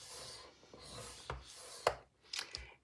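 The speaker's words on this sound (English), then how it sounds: "we are going to cut, or score, not cut, score at a 1/2 inch" A scoring tool drags across material at half-inch intervals, a few short, dry scraping strokes, close and quiet, with slight gaps between them.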